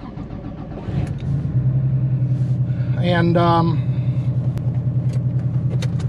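A 1989 Porsche Carrera 3.2 with an air-cooled engine cranks, catches and settles into a steady, loud, lumpy idle with a brief rise in revs, while someone speaks briefly near the start.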